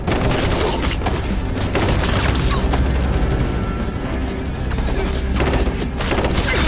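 Soldiers fire in an action film battle: loud, dense bursts of gunfire and rapid automatic shots roll on without a break, with heavy booms and crashes woven through the barrage.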